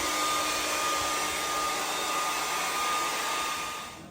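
A hair dryer blows steadily on a downhill mountain bike tire to warm it, a loud, continuous whooshing hum with a faint whine, easing off slightly at the end.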